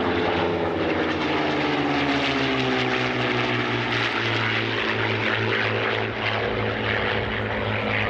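A loud, continuous P-51 Mustang propeller engine drones steadily at the Dunsfold 2014 air show, a throaty roar with a pulsing low tone throughout.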